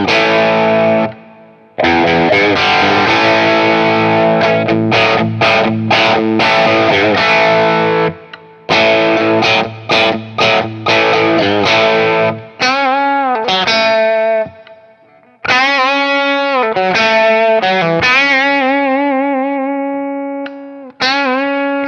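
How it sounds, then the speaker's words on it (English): Vola Vasti electric guitar in its normal Telecaster mode played through effects, loud bright twangy strummed chords and picked notes with distortion and chorus, switching in bursts with short pauses, no talk. "gives you that Telecaster twang right out of the box"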